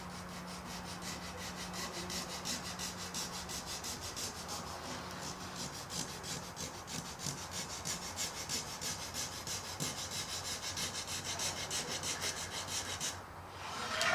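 Steady hand sanding along the edge of a wooden guitar top, shaping a small roundover; a continuous close rubbing rasp with even back-and-forth strokes and no speech.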